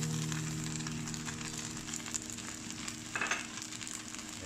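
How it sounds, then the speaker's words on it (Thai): Glass noodles stir-fry with sugar, light soy sauce and oyster sauce in a pan, a soft steady sizzle with occasional scraping and tossing sounds, fairly quiet and with no talking. "เสร็จแล้วเราก็จะผัดคลุกเคล้าให้เข้ากันนะครับ"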